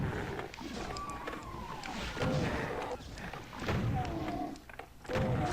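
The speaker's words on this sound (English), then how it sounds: "who doesn't like, you know, the super shotgun?" Super shotgun blasts in the first-person shooter Doom 2, several heavy booming shots spaced a second or two apart, fairly quiet within the game mix.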